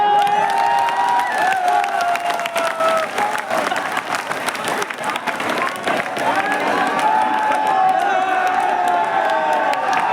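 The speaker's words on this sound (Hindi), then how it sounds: "तो मैं इमरान भाई को लेके आ रहा हूँ, आप तालियां बजाइए।" A large audience at a mushaira poetry gathering in Nagpur applauds continuously with scattered cheers and whoops, loud and sustained throughout.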